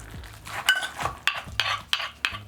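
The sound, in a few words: smashing green onions and cilantro into a paste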